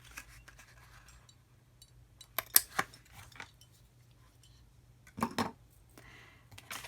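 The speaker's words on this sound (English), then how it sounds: "The next thing we're going to do is cut a tiny little finger notch in the front of the box." Scissors snipping a small finger notch into the front of a paper card box, a few quiet, sparse cuts with two brief clusters of crisp snips over a faint background hum.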